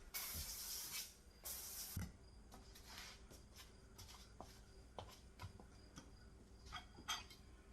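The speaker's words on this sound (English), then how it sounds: "So I will spray my trays first." Two quick hisses of an aerosol cooking spray onto baking trays for air-fried zucchini fries, followed by faint clicks and light taps from handling trays, all at low volume.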